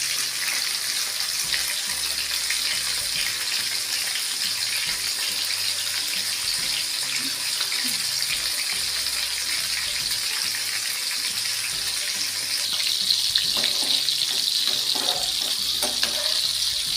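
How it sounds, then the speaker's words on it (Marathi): Prawns deep frying in hot oil for a crispy Koliwada-style starter, giving a steady, loud hiss and bubbling sizzle that continues unbroken, with a few louder crackles near the end. "3 ते 4 मिनिटात कोळंबी क्रिस्पी झालेली आपल्याला दिसेल."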